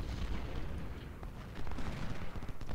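Dense, continuous gunfire and rumbling artillery in the Civil War strategy game Ultimate General: Civil War, a dull battle roar with overlapping shots and booms throughout.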